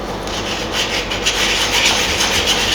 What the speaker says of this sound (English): going in a circular motion so I don't leave big grooves in it with this coarse sandpaper